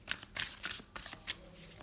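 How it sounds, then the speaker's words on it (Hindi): Tarot cards being shuffled and drawn: several quick riffling bursts of paper flicks, close and fairly quiet, with no voices. "अब हम निकालते हैं कुछ और कार्ड्स।"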